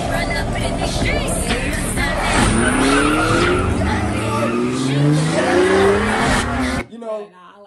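Race cars in a music video race screech and roar with tire squeal and revving engines, loud and continuous over backing music, cutting to near silence at the end.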